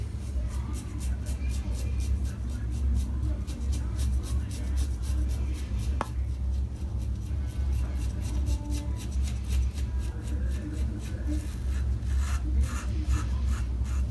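RazoRock MJ90 safety razor, a mild, well-built double-edge razor, dragged across the grain through thick lather on a face, giving a steady close scratchy rasp with repeated short strokes.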